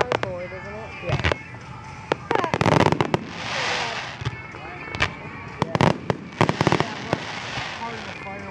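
Fireworks at the Battle Creek Field of Flight show in Michigan, 2012, burst repeatedly in sharp loud bangs and crackling volleys, irregularly spaced and fairly close, while people talk nearby.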